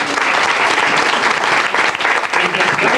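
Studio audience on a late-1990s television show breaks into loud, dense, sustained applause throughout, filling the room without pause.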